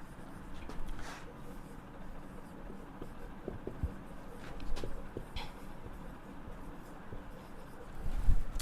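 A pen writes out notes, its faint scratchy strokes coming in short irregular bursts over a quiet, low background rumble.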